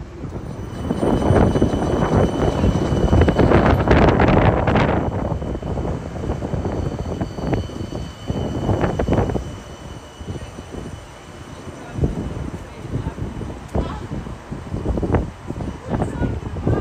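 Canberra light rail tram pulling away from the Alinga Street stop on a very windy day, a broad rumble swelling early then fading, mixed with heavy wind buffeting the microphone and some nearby talk.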